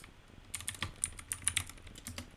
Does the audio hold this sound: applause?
no